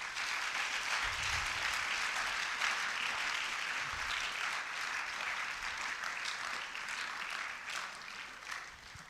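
An audience at a book launch for a breast cancer book claps in sustained, even applause that carries on at a steady level before tapering slightly near the end.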